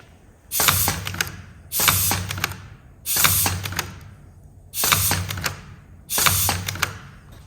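A custom-made container packaging machine runs in steady repeating cycles, each a loud clattering mechanical stroke followed by a fading whir, five cycles at an even pace, nearby and without speech.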